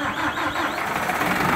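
A Massey Ferguson 6713R Dyna tractor runs with a Massey Ferguson 1838 baler hitched up, giving a steady engine drone with a rhythmic mechanical whir on top, fairly close and without speech.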